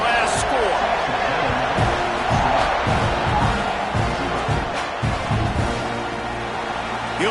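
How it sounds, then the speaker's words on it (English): A packed stadium crowd at a Florida versus Texas A&M college football game roars and buzzes loudly and continuously after a score, with an announcer talking over the noise. "this crowd is buzzing after that last score"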